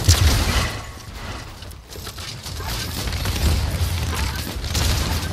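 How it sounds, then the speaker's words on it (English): A loud video-game explosion delivers a heavy rumbling blast, followed by a continuous roar of debris and gunfire-like crackle that stays dense and intense throughout. "We're gonna explode"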